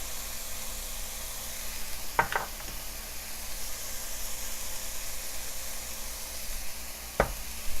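Garlic, onion and leek sauté in a pan with a continuous soft sizzle. Two brief sharp scraping stirs cut through partway along and again near the end.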